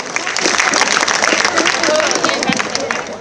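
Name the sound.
audience applauding dancers and singers at cultural event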